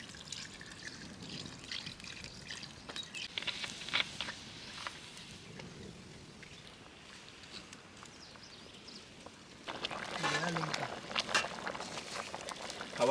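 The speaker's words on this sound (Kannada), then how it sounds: "ಸ್ವಲ್ಪ ನೀರು ಹಾಕ್ಕೊಂಡು ಕ್ಲೀನಾಗಿ ಬೇಯೋ ಥರ ನೀರು ಹಾಕೋಣ." Water is poured into a pot of chicken biryani being cooked outdoors in a forest, making a faint trickle that swells into a steadier splashing pour toward the end.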